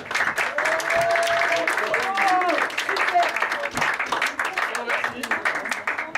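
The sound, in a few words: audience applause at improv theatre festival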